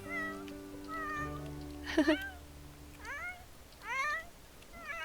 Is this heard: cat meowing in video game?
yes